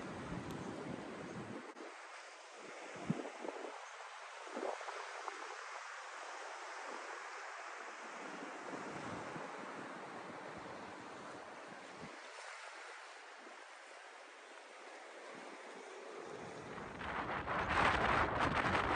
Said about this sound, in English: It was incredibly windy at this location, as you can probably tell.